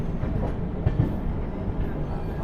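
The Prashanti Express (18463) runs on the rails with a heavy low rumble and a couple of sharp thumps from the wheels, steady and close throughout.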